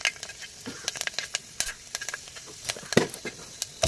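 Fenugreek seeds and curry leaves frying in hot oil in a South Indian home kitchen, giving a close, steady sizzle with crackling pops and stirring scrapes, no talking.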